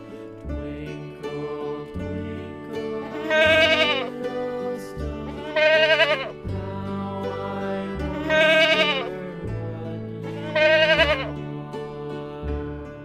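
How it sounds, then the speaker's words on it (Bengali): Repeated bleating from a goat kid, four loud calls at steady intervals over a droning musical background. "ছয়ে ছাগল ছানা লাফিয়ে চলে"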